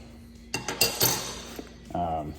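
Metal crescent wrenches, small and large, clink and clatter against each other while being packed into a maintenance tool bag, a few close bright jingles and knocks in a short run.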